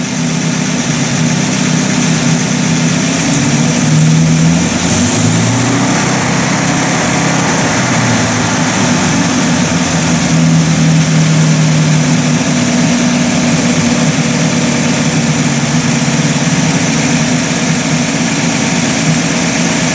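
A Buick Roadmaster engine with a carburetor runs steadily at a smooth idle, a loud, close, even rumble with no gaps and no talking throughout.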